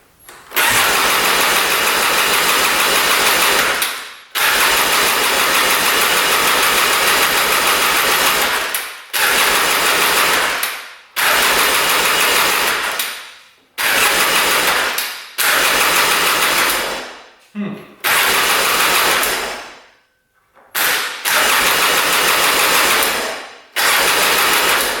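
A smoking, broken-down 4x4 ATV engine cranks and runs in repeated loud bursts, each a steady buzzing rev lasting a few seconds before cutting out, with short silent gaps between attempts.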